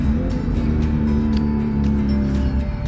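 Steady road traffic at night near Carmona, Cavite, with a continuous loud engine drone and low rumble of cars passing close by, no talk over it.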